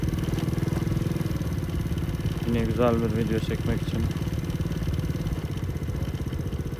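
A motorcycle engine hums steadily while riding past Atatürk Park in Erzincan on a morning ride, with someone talking briefly over the continuous mid-pitched drone.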